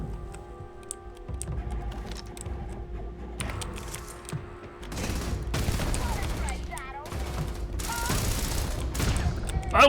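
Gunfire from the video game Starfield crackles in rapid bursts alongside clicky keyboard-like tapping, with a steady low hum underneath and a voice briefly heard.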